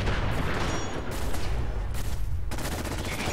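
Dense gunfire during a caravan attack in the video game Fallout 4, rapid overlapping shots and bursts loud throughout with short lulls.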